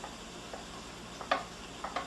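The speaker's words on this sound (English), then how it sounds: "we're going to stir it up and mix it a little bit" Melted raw chocolate being stirred and mixed in a bowl, quiet with a few light clicks and scrapes of the utensil against the container, close up.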